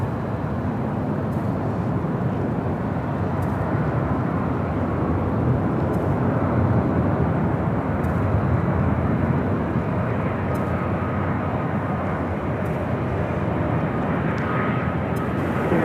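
A jet airliner roars steadily on takeoff from runway 24 left at Los Angeles International Airport, a broad continuous engine rumble heard from a distance for about sixteen seconds.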